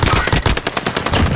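Rapid automatic gunfire in Call of Duty, a loud, close burst of sharp shots fired in quick succession.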